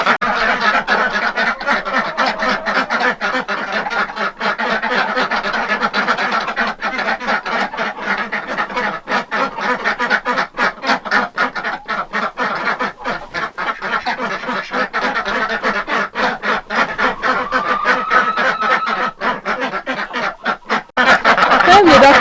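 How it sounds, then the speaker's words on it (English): Khaki Campbell ducks quacking noisily on a winter morning, a dense, continuous flock chorus of rapid honking quacks, close and loud, with a person speaking over it. "the ducks are very noisy and demanding until I get to them in the morning"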